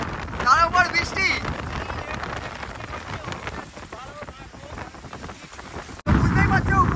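Rain falls at Bakkhali sea beach, a wet, steady patter mixed with wind buffeting the microphone, while people talk and shout over it and the noise surges louder near the end.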